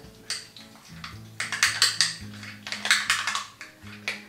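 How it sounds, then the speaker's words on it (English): A spoon clinks and scrapes around a bowl of Greek yogurt in quick, uneven strokes, close up and fairly crisp, with no talking. "in my 1/2 cup of Greek yogurt. And I'm going to stir it up."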